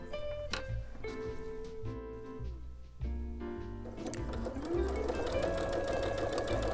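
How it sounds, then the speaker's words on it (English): A sewing machine stitches a quilt block in a quick, continuous whir that runs under the whole stretch, pausing and changing pitch briefly, then picking up again louder near the end. "I'm going to go sew on this side of the line, just to the left of it."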